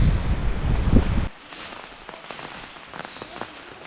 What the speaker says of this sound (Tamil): ஃபுல் மழை.